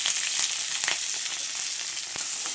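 Garlic and green chilies frying in hot oil in a wok with bay leaf, dried red chili and cumin, a loud continuous crackling sizzle with a few stir scrapes.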